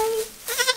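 A goat bleats in a clean barn, a single wavering, nasal bleat that is close and clear, cut into by a short tonal sound at the start.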